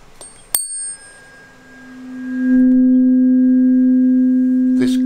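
Struck tuning fork held close to a microphone in a classroom: a sharp metallic tap, then a pure steady tone that grows louder and holds, ending with a brief rustle.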